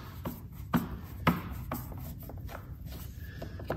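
A JIS screw is backed out of a Honda Goldwing trunk panel, giving faint scraping and rubbing with a few sharper ticks of the driver turning in the screw head, close and quiet.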